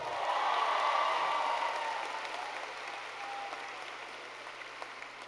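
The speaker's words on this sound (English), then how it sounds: "Keep the applause going" A large audience applauds at the West High 2023 graduation commencement: a dense, steady wash of clapping that is loudest at the start and gradually thins and softens over a few seconds.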